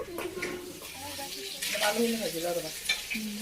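Potatoes fry and are stirred in a pan, a steady sizzle with scraping stirs running throughout, while people talk over the cooking at close range.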